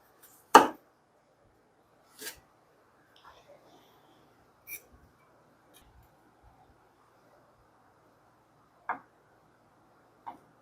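Knife cutting boiled octopus into 4-5 cm pieces on a board: a handful of sharp, separate taps spaced a second or more apart, with quiet pauses between them.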